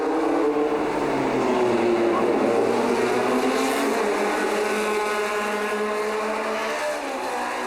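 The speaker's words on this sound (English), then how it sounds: "the first race cars start at the Grand Prix Historique on the Formula One circuit through Monte Carlo streets" Historic race cars start at the Grand Prix Historique on the Monte Carlo Formula One street circuit, several engines roaring loud and close together, with rising and overlapping revs and a steady, dense mechanical drone throughout.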